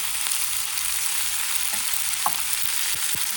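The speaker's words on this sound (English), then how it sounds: "Now I'm going to add the cut tomatoes. Give it a mix." Chopped tomatoes and onions fry in a pan for a tomato onion chutney, giving a loud, constant sizzle broken by a few soft scrapes and knocks of stirring, with no talking.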